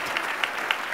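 Applause for campaign volunteers at a Centraide Outaouais 2013 campaign launch, a brief burst of dense, steady clapping from an audience, fairly loud and close.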